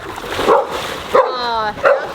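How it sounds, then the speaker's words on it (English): Small dog giving three short, sharp yappy barks up close, with a whiny edge and brief gaps between them, over a steady room hum. "Hayes, what a ferocious dog. Yeah. Wow, good bark"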